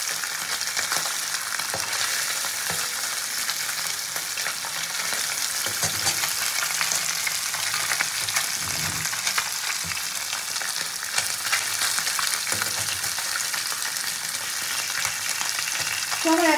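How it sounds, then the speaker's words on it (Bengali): Kajli fish frying in hot oil in a pan, a steady dense sizzle running the whole way with occasional soft stirring knocks underneath, close and continuous with no talking. "জাস্ট একটু এপিট ওপিট করে ভেজে মাছগুলো তুলে নেবো"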